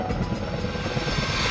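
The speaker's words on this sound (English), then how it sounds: "The heli-crane, with its supporting B-3 helicopter, is busy making daily runs across the mountains, ferrying material to these multiple work sites every day." Heli-crane helicopter ferrying construction material over mountains to transmission tower work sites, a loud continuous rotor and engine roar with rhythmic blade thumping, close and steady.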